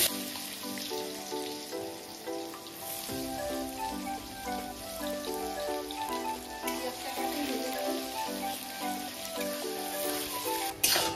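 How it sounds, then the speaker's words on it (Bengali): Chopped onion fries in a pan with whole garam masala spices and whole cumin for a Bengali mutton curry, making a continuous soft crackling sizzle like light rain under steady background music. "দিয়ে দিচ্ছি পেঁয়াজ কুচি।"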